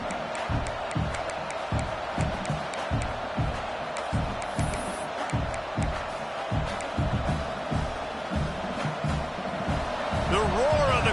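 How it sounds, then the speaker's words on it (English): Stadium crowd at an Oregon vs Texas A&M college football game keeps up a dense, steady roar, with rhythmic low thumps pulsing beneath it throughout. "The roar of the crowd trying to fuel this defense to keep them pinned in their own end."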